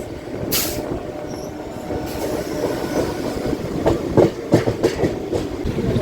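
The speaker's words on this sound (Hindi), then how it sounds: "अच्छा ये सुपर फास्ट एक्सप्रेस, जी हाँ ये वही है, Ahmedabad Saharsa super fast express." An Indian Railways superfast express on the Ahmedabad–Saharsa route rolls past nearby with a continuous rumble, rhythmic clickety-clack of wheels over rail joints and a few sharper metallic clanks toward the end.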